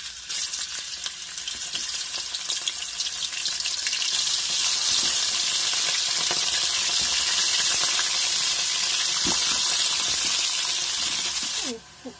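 Washed chicken sizzles and fries loudly in a little oil in a pan, a continuous dense crackle with occasional sharper pops and faint stirring, close and without speech.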